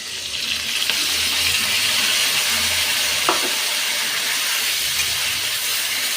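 Ginger and tomato paste fries in hot oil with a loud, steady hiss and sputter, broken once by a brief scrape partway through.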